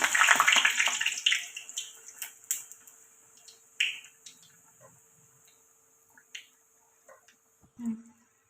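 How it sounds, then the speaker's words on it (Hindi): A potato burger patty lowered into hot oil in a kadai sizzles with a loud, hissing burst that quickly fades into quieter, scattered pops and crackles. "ऑयल हमारा गर्म है, और ऐसे ही आराम से आपने छोड़ना है।"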